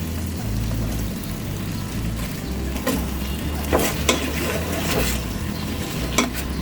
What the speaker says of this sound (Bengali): পুঁশাকগুলো দিয়ে কিছুক্ষণ পর্যন্ত আমরা কষাবো